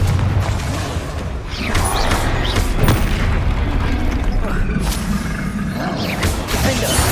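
Spell-cast explosions in the Hogwarts Legacy video game, Confringo blasts booming heavily with crashing impacts and whooshes over a dense, continuous rumble throughout.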